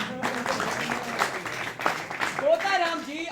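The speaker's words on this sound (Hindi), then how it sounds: "ताली बजा दो भाई" Applause from the audience at a stage play of Premchand's Moteram ka Satyagraha, a steady round of clapping running beneath voices, with speech becoming more prominent toward the end.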